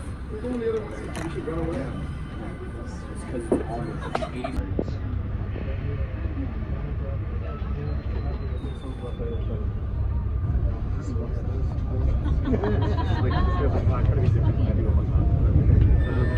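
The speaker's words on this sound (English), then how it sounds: "Alright, so we're moving on the subway." Steady low rumble of a moving subway train fills the whole stretch, with rattling and clatter, and faint voices murmuring in the carriage.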